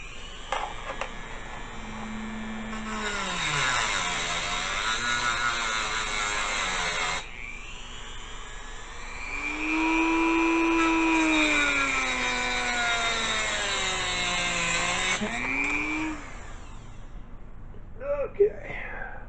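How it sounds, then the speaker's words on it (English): A Dremel tool with a cutoff wheel slices guitar fret wire for a Gretsch guitar. A high, whining buzz bends in pitch as the wheel bites, in two long cutting bursts with a brief pause between them. "I still like to use a Dremel tool with a cutoff wheel to cut it with."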